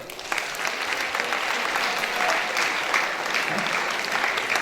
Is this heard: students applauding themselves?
yes